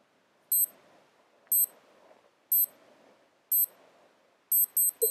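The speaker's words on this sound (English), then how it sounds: "That's my alarm going off." An electronic alarm beeps in short repeated bursts about once a second, then faster near the end, over faint background hum during a Minecraft game session.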